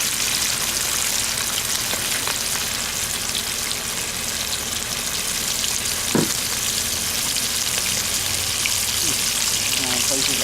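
Seasoned catfish fries in hot oil at a seafood market, a loud continuous crackling sizzle with occasional pops throughout.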